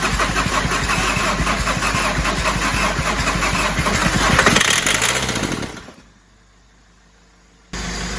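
VW T4 Transporter converted to TDI diesel cranking and catching on easy start, a loud rattly labouring engine noise that winds down into near silence before a noise resumes.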